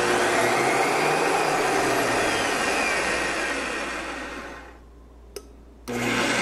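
A MERAX FE-50 magnetic base drill runs with a loud, steady motor whine while it taps a thread, winding down and falling quiet, then giving a brief click before restarting abruptly at the end.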